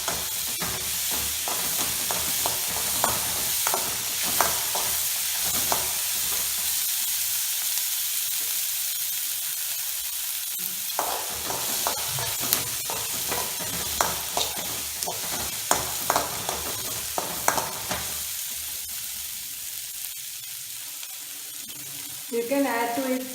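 Chopped onion frying with a steady sizzle in a pan on medium flame for toor dal, with frequent stirring scrapes and clinks punctuating the hiss throughout, close and fairly loud.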